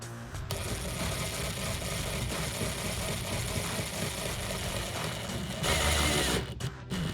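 A power drill drives screws into a car side skirt on a 2010-2015 Camaro, a steady mid-pitched motor whir running nearly the whole time with a brief louder burst near the end, heard up close.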